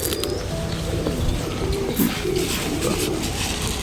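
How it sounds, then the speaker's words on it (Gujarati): Pigeons coo softly in low, throaty bursts amid a busy outdoor background with occasional chirps, at Aaji Dam in Rajkot. "કેવા મસ્તના કબૂતર ગાઈસ"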